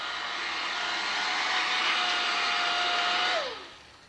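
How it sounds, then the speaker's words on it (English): A handheld blow dryer runs steadily on an oil painting portrait, a loud continuous whooshing roar with a faint whine, then it switches off near the end and the motor winds down. "I wanted it to dry quicker. Take a blow dry."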